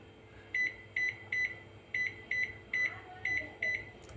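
Oven control panel beeping while convection mode is set, eight short bright electronic beeps in an uneven sequence, close and clear over a quiet room hum.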